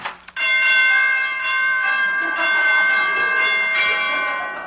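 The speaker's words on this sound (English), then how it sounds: "Door chimes need tuning." Door chimes on an old time radio show ring out in a sustained, slightly out-of-tune sequence of bright tones that decay slowly, loud and close, with no talking.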